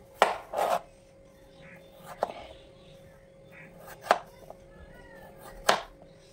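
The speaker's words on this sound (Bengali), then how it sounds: "এখন আমি ফ্রেঞ্চ ফ্রাইয়ের জন্য আলুগুলোকে কেটে নেব।" A knife cuts washed potatoes into French fry sticks on a board, giving about six crisp, separate chops at uneven intervals against a quiet background hum.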